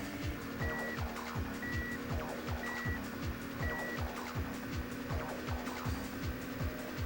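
A Lamborghini race car engine from the N64 racing game Automobili Lamborghini drones steadily with a repeating rhythmic pulse, alongside regular beeping game tones, continuous and moderately loud.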